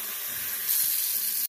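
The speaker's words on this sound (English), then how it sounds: "Next, make a warm saltwater rinse." Tap water runs into a sink while a warm saltwater rinse is prepared, a steady close hiss that stops abruptly after about a second and a half.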